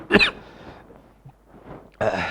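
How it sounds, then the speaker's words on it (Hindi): A person coughing, a sharp close cough at the start, then quiet throat sounds and a second burst near the end. "खांसी है वो बार बार आ रही है"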